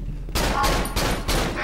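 Rapid gunfire in the horror video game Cry of Fear, several loud close shots in quick succession, each a sharp crack with a short decay, and no talk over them.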